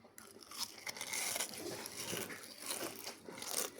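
Crispy shrimp and vegetable tempura is bitten and chewed up close, giving a rapid run of sharp, crackling crunches that continue throughout.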